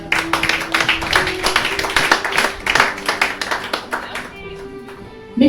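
A church congregation claps in acclamation during a French-language worship service, with loud, rhythmic, fairly even hand claps running for several seconds before fading out, plus some voices mixed in.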